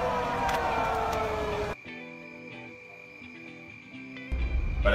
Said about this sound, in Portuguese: Parece a sirene do Silent Hill.